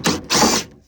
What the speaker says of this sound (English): undoing these fasteners here